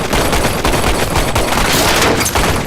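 Dense, sustained gunfire from a film shootout in Bright, rapid overlapping shots rattling at high volume for nearly three seconds with no pause.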